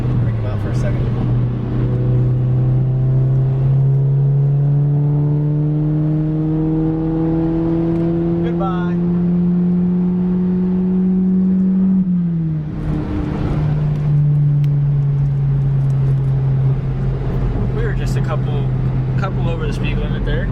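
A tuned car with a loud exhaust accelerates hard past the listener, the engine note climbing steadily through the gears before dropping as it goes by, then holding a steady drone.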